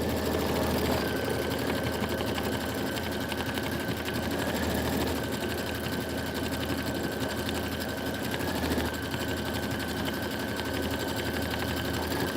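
A Panasonic compact sewing machine stitching a fast satin stitch, a loud, dense, continuous mechanical whirr with a rapid needle rhythm running unbroken throughout; no voices.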